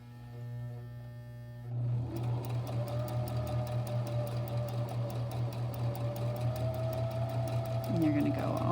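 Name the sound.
sewing machine sewing a straight stitch on a buttonhole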